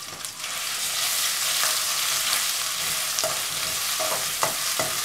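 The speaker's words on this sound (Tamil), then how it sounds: "இது நல்லா எண்ணெயிலே ஃப்ரை பண்ணணும்." Crushed ginger, garlic and pepper fry in hot oil with curry leaves for a crab pepper masala, a loud steady sizzle with a few sharp spatters and scrapes of stirring near the end, no voices.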